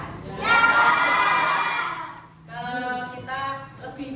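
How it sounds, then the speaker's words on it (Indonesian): Sixth-grade schoolchildren in a maths class shout a spirited group cheer in unison, two loud chanted bursts from a nearby crowd of young voices with a brief dip between them. "kita beri tepuk semangat dulu ya."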